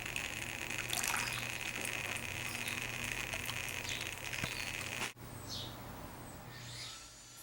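A counterweighted plastic pipe batch feeder dumps about 400 grams of water into a buffer and funnel in a homemade solar heater rig: a steady nearby gush cuts off abruptly, then a faint trickle and splash follow.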